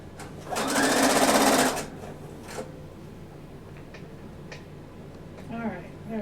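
Sewing machine stitching a sweater seam, a fast steady whirring burst of about a second near the start, then quiet with faint handling noises.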